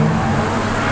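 A Ferrari 360 V8 engine with Formula One style technology, in a GTA 5 game mod, roars loud and close in a brief, sustained burst of steady revving.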